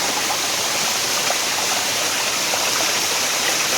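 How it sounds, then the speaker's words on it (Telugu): A roadside waterfall near Lonavala in heavy rain roars as a dense, steady rush of falling water, loud and close throughout, with no voices. "ఇక్కడ నుంచి దగ్గర నుంచి చూడండి వాటర్ ఫాల్ వ్యూ ఎలా ఉందో."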